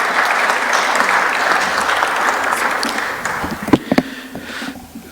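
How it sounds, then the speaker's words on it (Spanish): Conference audience at an international bicentennial event applauds steadily for the departing speaker, a full room of clapping that thins out toward the end with a few loud isolated claps. "Le despedimos con un fuerte aplauso"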